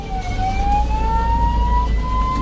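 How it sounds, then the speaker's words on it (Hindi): An ambulance siren wails in a steady rising and falling tone, loud and close, with road engine rumble underneath while the vehicle sits stopped on a road with an angry elephant nearby. "एम्बुलेंस ड्राइवर सायरन और हॉर्न बजाने लगा"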